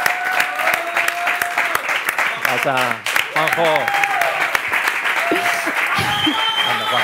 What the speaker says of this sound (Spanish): Un aplauso para Juanjo.